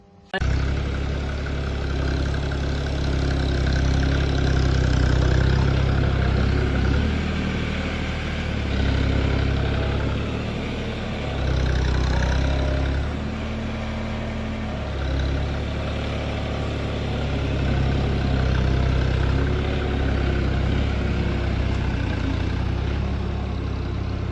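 A tractor engine idles steadily on a farm field being prepared for vegetables, a loud continuous low rumble with a few surging swells and no talk.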